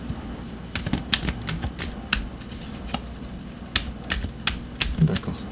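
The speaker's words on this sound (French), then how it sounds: "Continue à brasser les cartes un petit peu." Tarot cards shuffled by hand at close range, giving crisp clicking slaps and short riffling bursts in an irregular rhythm.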